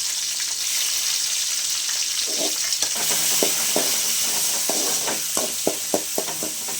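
Onion, curry leaves and green chilli fry with spluttered mustard seeds in a pan, with a steady sizzle and a run of sharp rhythmic stirring taps growing more frequent toward the end, with no speech.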